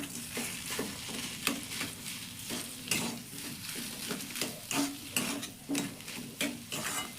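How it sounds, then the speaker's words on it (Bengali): Potato filling for stuffed luchi being stirred and sautéed in a pan, with a steady sizzle under repeated scraping strokes of a spatula against the metal, close and continuous throughout. "এবার ভালো করে আলুটা মিষ্টি দেওয়ার পর কষিয়ে দেবো।"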